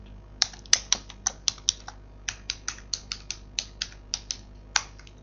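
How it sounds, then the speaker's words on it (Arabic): A computer keyboard is typed on in a steady run of about twenty crisp, close key clicks while a password is entered, with slightly louder strikes near the end as Enter is pressed; no one speaks. "اكتب كلمة السر ونضغط انتر"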